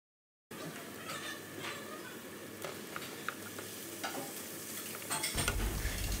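Garlic, onion and ground beef sautéing in a pan: a steady close sizzle with scattered crackles and utensil scrapes, swelling louder near the end.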